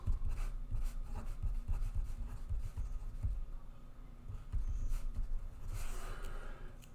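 Marker or chalk scratching on a board while writing out a set of integers, a run of quick taps and strokes in close, steady succession, fairly faint.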